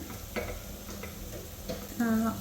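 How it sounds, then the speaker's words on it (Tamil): Cashews roast in a little ghee, a faint low sizzle with a few light taps and stirring clicks, quiet and close, with a brief voice near the end. "கொஞ்சமாக நெய் ஊற்றிட்டு இருக்க எல்லா முந்திரியும் அதிலே வறுத்துக்கிறோம்."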